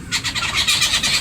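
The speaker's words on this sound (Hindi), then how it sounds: "चिड़िया बहुत बोल रही हैं" Birds chirp loudly and continuously, overlapping bright twittering calls that form a dense, close chorus with no talk over them.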